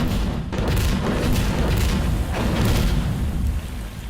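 A loud, dense rumble of booming video game explosions in Sandstorm fills the whole stretch, with a few sharper thuds rising out of the steady roar.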